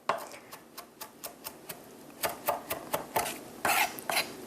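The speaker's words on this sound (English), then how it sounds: "move the knife to chop" A knife chops parsley on a board in quick, regular close taps that speed up and grow louder toward the end, with no talking.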